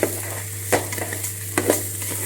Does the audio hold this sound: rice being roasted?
yes